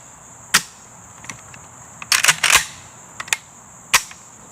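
Dry trigger clicks and metallic snaps from a function check on a freshly reassembled AKM pattern rifle, several sharp separate clicks with a short cluster in the middle, close and clear against a quiet room.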